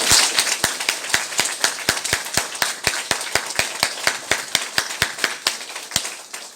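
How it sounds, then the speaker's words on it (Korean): A church congregation at Sunday worship claps in unison, sharp, close handclaps in a steady, fairly quick beat that carries on without pause, loud and with no talking over it. "우레와 같은 박수로 하나님께 영광 올려드립니다"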